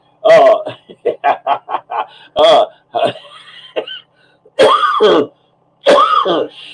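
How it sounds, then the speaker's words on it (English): A person coughs and clears their throat several times in harsh, close bursts, separated by short pauses. "this cough, I've got to do something about it"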